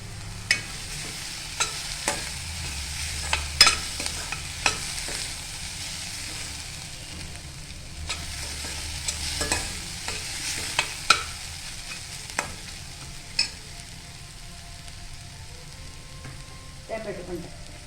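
Curry leaves frying and being stirred in hot oil for a thin Indian potato bhaji, a steady sizzle broken by repeated scraping stirs, close and fairly loud with no talking.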